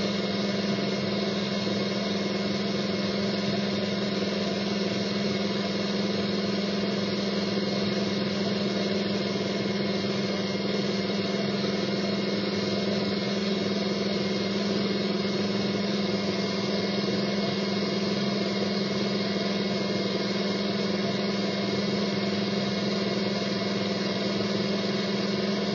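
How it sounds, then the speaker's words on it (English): An antique Tyco slot car runs on a dyno, its small electric motor making a steady, unbroken whirring drone for the whole stretch, close and even, with no voices. "we'll put this one here on the dyno and let it run"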